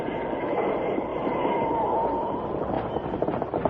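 A train runs along its rails with a continuous heavy rumble and rolling clatter, steady and close throughout with no talking.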